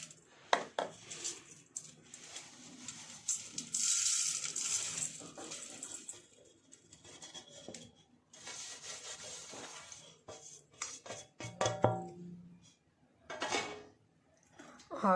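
Batter ingredients for stuffed bhindi masala are stirred together in a vessel, making scattered scraping, clinking and rubbing sounds with uneven pauses, close and moderately quiet.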